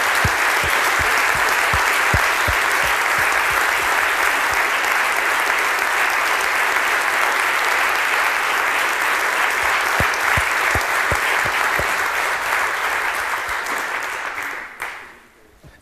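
A conference audience gives the CCC video team a long, loud, dense ovation, with steady clapping that holds for about fourteen seconds and then quickly fades out.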